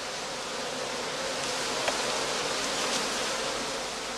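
Honey bees swarming inside a Lüneburg-type skep on heathland give off a dense, steady buzz that stays close and loud throughout, with no voices.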